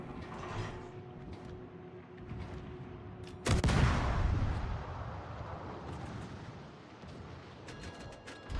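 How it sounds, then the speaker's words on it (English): Warship guns in World of Warships fire a single sudden, heavy boom that rolls into a long, fading rumble, loud and close against a low hum of the game. "Why are these guns so loud?"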